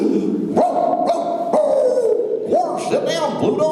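A voice actor imitates the barking of the cartoon dog Pluto: several short, loud, throaty barks and yips in quick succession, close and with nothing else behind them.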